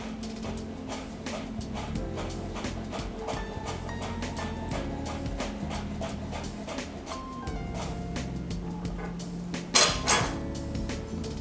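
Knife chopping fresh basil on a board, with a quick string of sharp, close taps over a steady hum and a louder clatter near the end.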